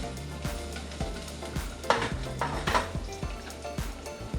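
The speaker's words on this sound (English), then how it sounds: "So after it starts to get frying" Pork belly fries in a pan with a continuous crackling sizzle, close and moderately loud. Frequent utensil taps and scrapes against the cookware keep up an uneven, busy rhythm.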